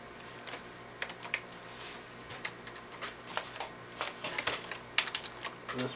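Irregular clattering of fingers typing on a Gateway Performance 1500 computer keyboard, close up, with quick bursts of keystrokes and short pauses.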